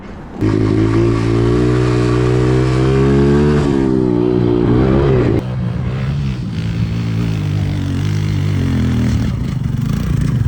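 A small Yamaha TT-R 120 dirt bike engine idles roughly, then revs up and drops back, its buzzing note rising and falling up close for several seconds.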